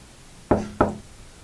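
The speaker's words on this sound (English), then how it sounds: "Two knocks." Two firm knocks about a third of a second apart, close and loud against a quiet room. They sound like knuckles rapping on a wooden door, and no one speaks.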